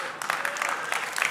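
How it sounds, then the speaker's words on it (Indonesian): A church congregation claps in a brief burst of applause, dense and close, with a voice faintly under it. "Ya, tepuk tangan buat Tuhan."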